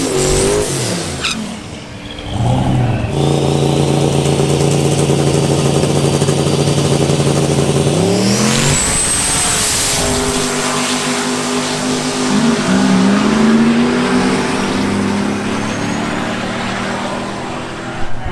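A drag race car at LS Fest bounces off its 2-step launch limiter, a loud, stuttering, harsh engine note that ramps up into a sustained roar as it pulls away, with a second burst of revving later.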